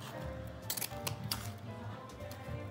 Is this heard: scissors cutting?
yes